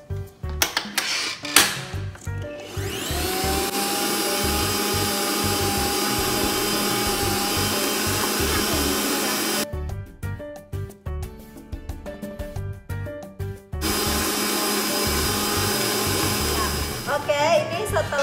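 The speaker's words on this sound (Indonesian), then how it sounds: "Ini kalau tidak ada standing mixer, pakai hand mixer biasa aja juga bisa" A hand mixer beats butter for marbled pandan black sticky rice sponge cake, a loud steady motor whir running in two long stretches with a short break between them, with a few clatters at the start.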